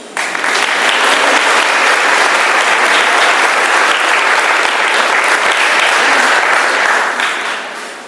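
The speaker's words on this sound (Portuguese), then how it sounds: "Você pode aplaudir o Senhor Jesus?" A church congregation breaks into loud, dense, sustained applause filling the hall, holding steady for several seconds before tapering off at the end.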